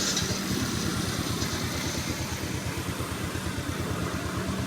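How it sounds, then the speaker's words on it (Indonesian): A motorcycle engine idles just after being started with the starter button, a close, steady low chugging that pulses evenly throughout with no talking. "Dan motor pun sudah menyala."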